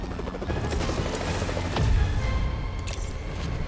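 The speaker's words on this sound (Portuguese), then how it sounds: "Agora é aquela hora da gente puxar o helicóptero." Rhythmic chopping of a helicopter's rotors in Marvel's Spider-Man on PS4, steady and fairly loud, with a dull boom about halfway through.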